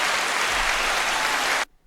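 Dense applause from a group clapping together, steady and loud for about a second and a half before cutting off abruptly into near silence.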